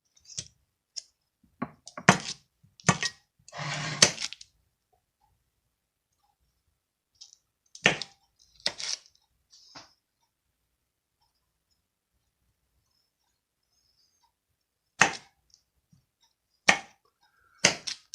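Apples are cut with a knife on a board in short bursts of crisp clicks and chops, clustered in quick runs separated by long silent pauses, close and fairly quiet.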